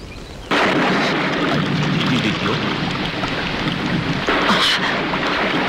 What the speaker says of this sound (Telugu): ఏం లేదు వర్షం ఓవరైపోయింది మా ఇల్లు సెరువైపోయింది